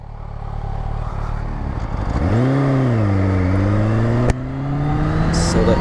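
A Kawasaki Ninja H2 motorcycle, freshly repaired, revs and pulls away with a rising, wavering engine note that climbs and holds as it rides off, loud and close.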